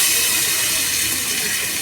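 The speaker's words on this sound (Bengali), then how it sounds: "পরিমাণ মতন পানি দেই এই যে দিলাম পানি" Water poured into a hot pan of curry makes a loud, steady, hissing sizzle that holds at an even level throughout, close and unbroken.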